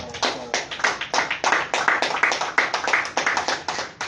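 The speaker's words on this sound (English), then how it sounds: "for that I ask all of us to give her a round of applause" Applause from an audience at a government press briefing on a gender equality law, a few people clapping in a loose, uneven rhythm of sharp, distinct claps, close and fairly light.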